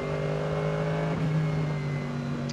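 Opel Astra OPC Cup race car at an endurance race at the Nürburgring Nordschleife, its engine droning with a steady tone that shifts pitch partway through, continuous and fairly loud without talk.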